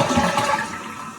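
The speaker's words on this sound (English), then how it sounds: "It's as soon as I push as soon as it starts releasing water out of the tank for the flush." A toilet flushes as water rushes out of the tank, a full, steady gush that stays close and loud before easing off slightly toward the end.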